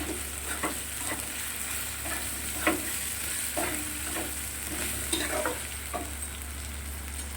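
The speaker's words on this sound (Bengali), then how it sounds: "দিয়ে 2 থেকে 3 মিনিট নাড়াচাড়া দিয়ে নিলাম" Soybean, potato and onion fry in a pan with a ginger, cumin, coriander and dried chili paste, a steady hiss of sizzling oil broken by irregular scraping strokes of a spatula being stirred through, close and without talk.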